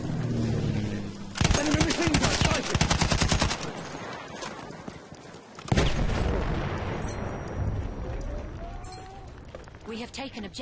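Rapid machine gun fire in the World War I shooter Battlefield 1, fast rattling bursts of shots up close, then further gunfire and explosions, with shouting voices over the combat.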